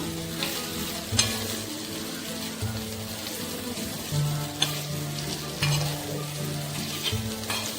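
Grated fresh coconut being stirred into masala okra frying on a tava, with a steady close sizzle and several soft scraping stirs standing out over the constant hiss.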